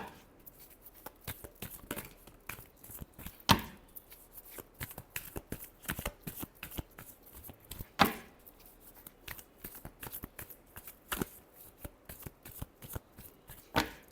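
Tarot cards are shuffled by hand close up, with quick riffling bursts and sharp taps of the deck repeating throughout, a soft voice murmuring faintly in the background.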